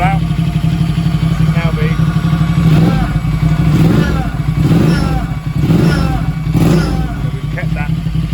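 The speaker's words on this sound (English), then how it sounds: "we fire it up again and our idle should be a bit better now" Motorcycle engine fired up after a fuel adjustment, idling loudly and unevenly with repeated revs and clattering pulses, close by, with someone talking over it.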